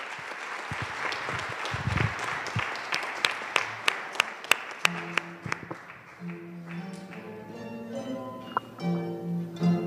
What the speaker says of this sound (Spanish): Un aplauso para recibirlos